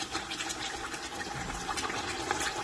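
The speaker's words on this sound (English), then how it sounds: "It's splattering all over" Vegetables tossed into a hot pot of Nigerian fish stew, a constant close sizzling splatter with crackling bursts, steady and fairly faint, no voices.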